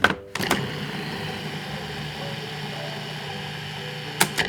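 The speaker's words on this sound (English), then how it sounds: "I'm gonna go ahead and pulse that for a little bit" A food processor pulses queso fresco with dry ingredients for pan de bono: a short clatter, then a few seconds of steady whirring motor drone, ending in quick bumps as it stops.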